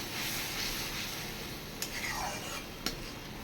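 Spices with black cumin and turmeric frying in mustard oil in a pan, a steady soft sizzle with occasional faint clicks of a stirring spoon, quiet and continuous, no speech.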